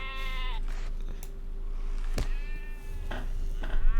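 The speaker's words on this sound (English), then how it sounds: "Hairball's gonna murder all the sheep again." In the Lord of the Rings Online video game, a cat meows and sheep bleat in a string of overlapping animal calls, with a sharp click partway through over a steady low game-ambience hum.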